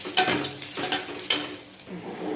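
A spoon stirs kurdai with coriander and coarsely crushed peanuts in a pan, three or four scraping strokes with a light sizzle underneath, close and fairly quiet.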